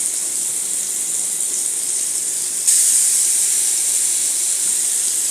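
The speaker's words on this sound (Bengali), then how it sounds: "ততক্ষণে আমি বড়াগুলো ভেজে নেব।" Kofta fritters fry in hot oil with a constant bright hiss that grows suddenly louder midway and stays loud and even to the end, with no voices.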